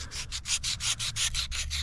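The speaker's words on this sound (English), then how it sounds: "lengthwise with our sanding strokes over the whole entire sheath" Rhythmic sandpaper strokes rasp back and forth lengthwise along a PVC knife sheath, about ten brisk scrapes in quick succession, close and clear with no talking.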